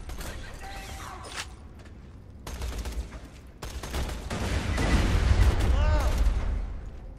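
Rapid cannon fire from a weapon in the video game Borderlands 2, a run of booming shots and mechanical clanks with whooshing effects, growing louder and denser in the second half.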